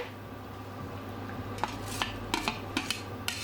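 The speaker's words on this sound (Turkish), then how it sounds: "Şimdi patates ve havuçları da ilave ediyorum." Chopped potatoes and carrots drop into a soup pot, giving a run of sharp, close clinks and knocks against the metal after a quiet start, with a steady hum in the background.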